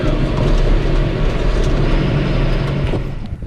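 A tractor towing a Newrock agitator mixer drives along with a steady, loud, low engine rumble and rolling drone that holds constant throughout, easing off slightly at the very end.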